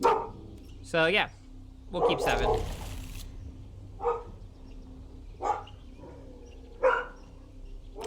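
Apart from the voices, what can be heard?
dog barking, probably at the mailman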